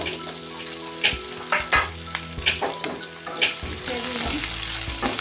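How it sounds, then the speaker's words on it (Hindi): Onion with cumin seeds and asafoetida lightly frying in oil in a pan, a steady close sizzle broken by several sharp stirring scrapes and clatters, with a few brief spoken words. "हल्का भूनेंगे, हमें ज़्यादा इसे जलाना नहीं है।"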